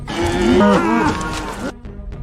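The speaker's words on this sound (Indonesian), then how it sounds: "Mirip kayak suara sapi dalam bahasa Hawaii ya." One loud, drawn-out cow moo sound effect that rises and falls in pitch for nearly two seconds, then cuts off sharply, leaving a faint tail.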